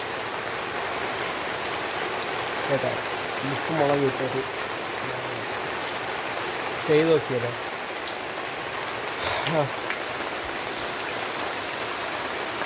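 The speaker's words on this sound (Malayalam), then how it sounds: "ഇപ്പം കുറച്ച് നേരമായിട്ടോ മഴ പെയ്യാൻ തുടങ്ങി" Steady rain falls throughout, a dense, even hiss that never lets up, while a person talks on and off over it.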